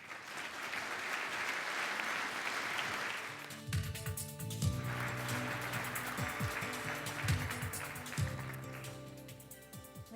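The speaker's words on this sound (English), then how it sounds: "please join me in one more round of applause for the Franz Edelman finalist teams of 2011." Enthusiastic audience applause fills an awards gala hall for the 2011 Franz Edelman finalist teams, a steady, dense clapping that swells loud and sustained, with a brief lull before it surges again.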